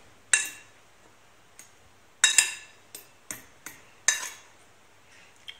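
A metal fork clinks and scrapes sharply against a dish of cooked semolina several times in irregular bursts, with quiet pauses between the strikes.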